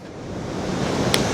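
Rough sea surges against a sea wall on the Blackpool coast, a loud, continuous roar of breaking waves and wind noise close to the microphone.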